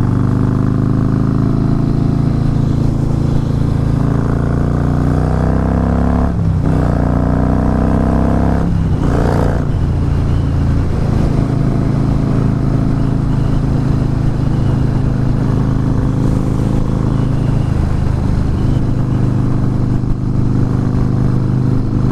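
A Fat Boy S motorcycle engine runs loud and close with a deep low rumble, rising briefly with a couple of revs early on before settling into a steady throb.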